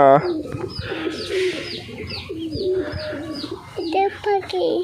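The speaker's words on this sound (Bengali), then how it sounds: "এখানে সব পাখি এখন খাবে" Pigeons coo close by in a rhythmic run of throaty, repeated calls that overlap one another, with faint talk in the background.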